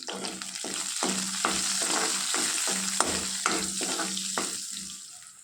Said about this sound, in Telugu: ఉల్లిపాయ ముక్కలు కొంచెం జీలకర్ర ఆవాలు పచ్చిమిర్చి ముక్కలు వేసి వేయించుకుందామండి